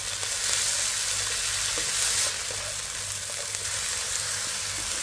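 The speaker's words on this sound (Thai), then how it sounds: "ใส่ เต้าหู้ที่เราทอดนะใส่ลงไปจากนั้นก็ผัดต่อได้เลยค่ะ" Fried tofu is stir-fried in a pan, giving a loud, continuous close-up sizzle with faint scraping from the spatula throughout.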